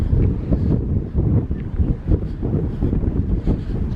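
Blustery wind on the Hunstanton coast in Norfolk buffets the microphone with a steady, low rumbling roar that surges and dips throughout, with no voices.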